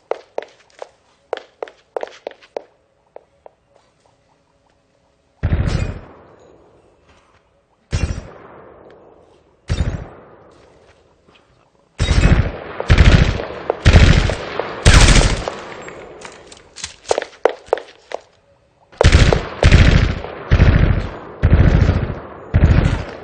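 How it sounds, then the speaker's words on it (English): Footsteps of the character Widowmaker in the video game Overwatch, a quick run of light steps that fades, followed by loud bursts of rifle gunfire in repeated clusters, coming nearer and farther. "You'll notice that the footsteps go away fairly quickly, but you can still hear the gun."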